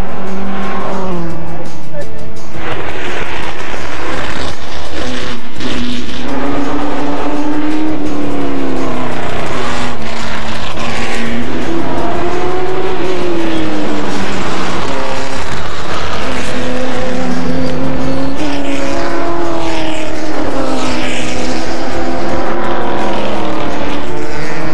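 Classic race cars at the Le Mans Classic 2006 roar loudly past and around the circuit, engines rising and falling in pitch through gear changes, with tire squeal and a continuous mix of nearby and distant cars for the whole stretch.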